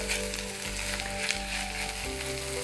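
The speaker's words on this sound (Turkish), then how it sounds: "Soğanlarla pirinçleri güzelce karıştıracağım." Onions and rice sizzling and frying in a pan as they are stirred, a steady crackling hiss, close and alone without talk.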